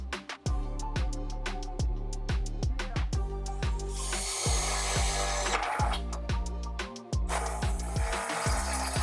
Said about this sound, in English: now we know that's where we have to drill our hole.